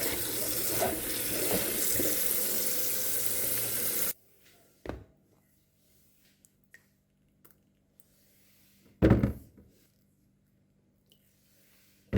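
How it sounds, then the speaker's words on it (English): Backyard figs being washed under a running kitchen tap, a steady close rush of water for several seconds that then stops, followed by a few soft handling bumps and a brief splash. "the next step will be washing our figs, just making sure that there's no dust"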